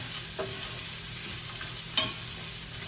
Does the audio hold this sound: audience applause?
no